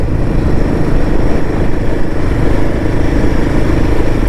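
A motorcycle ridden on a mountain road in Sikkim gives a loud, steady engine drone with rushing wind and road rumble throughout, sounding continuous and close.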